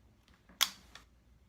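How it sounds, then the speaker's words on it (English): A sharp metallic click, then a softer second click a moment later, close and quiet, as a pistol's internal hammers engage. "that's the sound of my hammers engaging."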